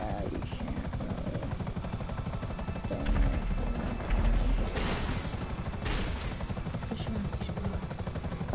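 A helicopter in a video game drones steadily with a fast chopping rotor pulse, close and loud throughout, while bursts of gunfire crackle over it in the middle.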